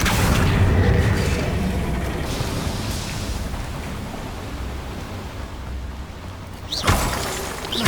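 A Confringo fire spell in Hogwarts Legacy erupts in a loud, rumbling blast that decays over several seconds, with a second sharp burst near the end.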